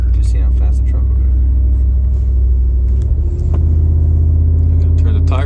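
A pickup truck accelerating hard on a Texas road, a loud deep engine rumble heard from inside the cab that holds steady and rises slightly near the end, with people talking over it.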